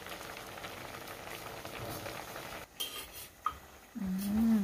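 Mushrooms going into a pot of boiling bamboo shoot soup with grilled mackerel, a steady bubbling hiss broken by a few soft splashes and a metal clink near the end.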